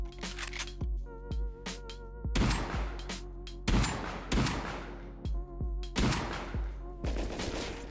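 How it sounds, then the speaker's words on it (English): Loud gunshots in the game Rust ring out in single shots and short clusters, each a sharp crack with a booming tail, spaced irregularly and close by. "I'm gonna stand outside and just start shooting."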